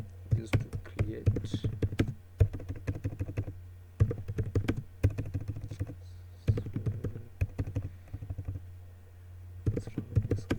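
Computer keyboard typing in close, quick bursts of clicking keystrokes separated by short pauses, with a voice talking now and then over the tapping.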